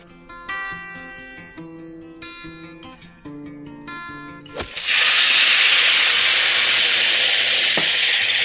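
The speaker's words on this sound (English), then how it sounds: "I'm gonna go ahead and blend this up." Blender whirring loudly as it purees chilies, garlic, beef bouillon, ground cumin, cloves and black pepper, starting abruptly after quieter musical tones and running as a steady, dense roar to the end.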